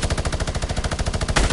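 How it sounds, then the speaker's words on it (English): Rapid gunfire in the video game Fortnite: a fast, steady stream of loud, evenly spaced shots packed close together, with a slightly heavier blast near the end, and no talk over it. "trying to tag you with a shotgun."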